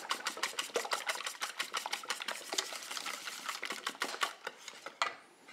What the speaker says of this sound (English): whisk them together quickly